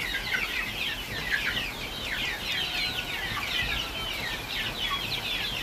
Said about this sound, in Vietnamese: Con gà anh nó đang khỏe mạnh này mà